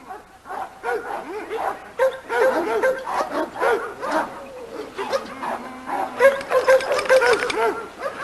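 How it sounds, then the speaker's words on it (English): Several red, black-masked dogs bark, yip and whimper in a kennel yard, a steady overlapping chorus of near and mid-distance voices running throughout. "Got some red dogs with black mask."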